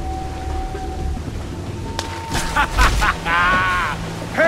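A thunderstorm with rain in the pirate video game Assassin's Creed IV: Black Flag: a steady hiss of rainfall, a sudden crack, then a deep rolling rumble of thunder.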